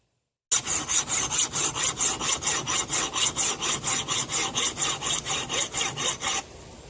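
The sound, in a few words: filing an axe edge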